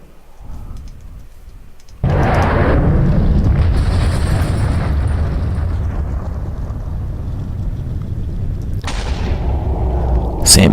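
A missile launches in the Voltz mod pack: a sudden loud roaring blast kicks in and holds as a dense, sustained rumble for several seconds, with a hissing burst near the end.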